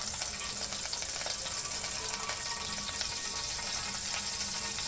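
Refined white oil heating in a pan while palak paneer is being made, giving a faint, steady, crackling sizzle that runs throughout, with no talking.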